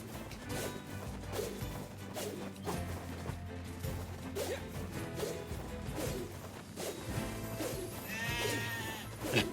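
Sheep bleat in the video game Nier Replicant, with several short cries over clattering gameplay sounds and background music that build toward a crash at the end.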